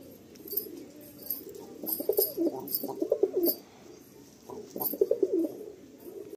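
Pigeons coo in repeated bursts at close range, with breeding pairs of Kaldum males and Phulshira females being shown for sale; the low, throaty coos rise and fall in several rounds between quieter pauses.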